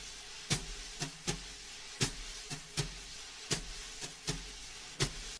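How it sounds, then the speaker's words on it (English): Sampled jazz drum brushes loop, soft swishes and light taps in a loose swinging rhythm over a faint hiss, quiet and alone. "it's just simple jazz drum brushes"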